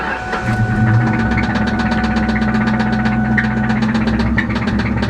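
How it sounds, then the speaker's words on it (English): A fire-damaged Ford Mustang GT engine idles roughly with a fast, even metallic knock ticking over a steady low drone, recorded close with no talking. "yeah, that engine sounds awful."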